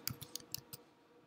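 A quick burst of about five crisp computer keyboard keystrokes while entering a web address, close and fairly quiet, then stopping.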